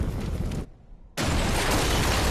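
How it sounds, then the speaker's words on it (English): Two loud, roaring movie explosion blasts from the film RRR fill the sound, split by a brief moment of near quiet before the second, heavier rumble. "all of these explosions"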